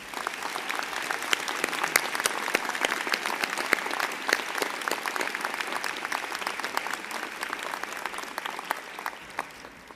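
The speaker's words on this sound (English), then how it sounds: "Could you please join me in a round of applause for these outstanding musicians?" Sustained applause from a graduation ceremony audience honoring the musicians, a dense, steady wash of many hands clapping at moderate distance, unbroken for the full stretch with no talk over it.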